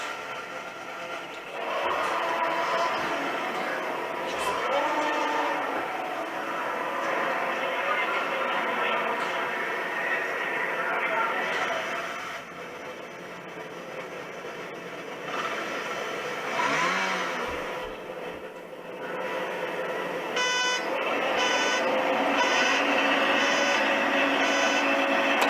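Formula 1 cars roar off the start of the Mexican Grand Prix, engine howls rising and sweeping by in a dense sustained wall of sound while French commentators talk over it.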